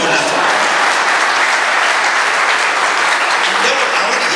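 Audience applause at a family television program, loud sustained clapping from a crowd filling the whole stretch.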